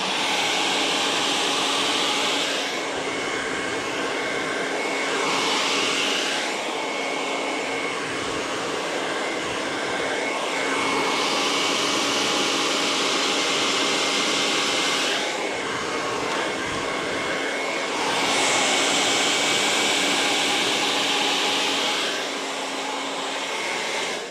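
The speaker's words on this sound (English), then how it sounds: "I hope you're beginning to blow dry right along with me" A hair dryer blows steadily while hair is blow-dried with a paddle brush, a loud continuous airy roar that swells and dips in pitch as the airflow shifts, close and with no talking.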